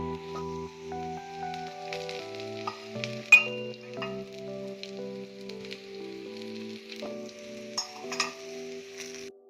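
Gujarati patra, rolled arbi (colocasia) leaf slices, shallow-fry in oil in a pan, making a soft steady sizzle with scattered light pops and crackles, close and fairly quiet, with no talk.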